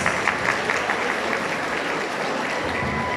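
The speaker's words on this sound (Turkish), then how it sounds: "Alkışlarla gönderiyoruz başkanımıza." An audience at a mosque construction project presentation gives a brief, steady round of clapping for the mayor, moderately loud and even throughout.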